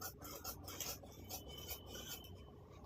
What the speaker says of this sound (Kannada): ಈ ರೀತಿ ಗಿಡಿ ಕಡೆ ಕಟ್ ಮಾಡ್ಕೊತೀನಿ